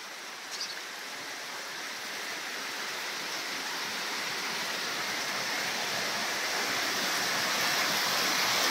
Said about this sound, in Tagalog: Ulan na guys, sobrang lakas.